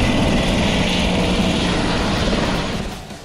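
A helicopter in Monaco roars with a loud, steady rotor and engine drone close by, its noise dipping slightly toward the end.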